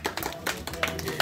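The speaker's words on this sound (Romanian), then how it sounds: "Bun, bravo, aplauze cu toții." A small group claps briefly at a 22nd birthday, a quick scattered round of applause with voices talking over it.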